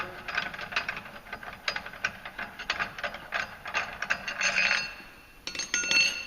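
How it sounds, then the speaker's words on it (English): A clutch puller being unthreaded from the primary clutch of a 2016 Polaris General 1000, heard as rapid repeated metallic ratchet clicks in bursts, close and fairly loud, with brief pauses. "Then you gotta pretty much unthread the puller."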